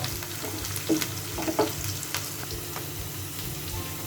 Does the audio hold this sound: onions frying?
yes